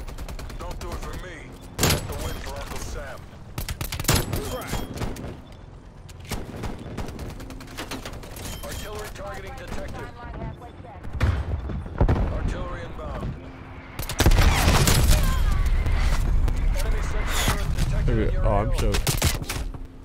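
ZRG 20mm sniper rifle firing in Call of Duty Cold War multiplayer, sharp booming shots among dense game gunfire and explosions, loud and near, with a louder burst of combat noise toward the end.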